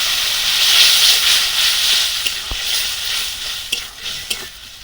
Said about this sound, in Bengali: মশলার জলটা দিয়ে একটু ভালো করে কষে নেব।